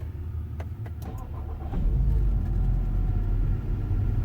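A 2012 Volkswagen Passat engine is started: a few clicks and cranking, then at about 1.7 seconds the engine catches and settles into a steady, loud, low idle rumble close to the microphone.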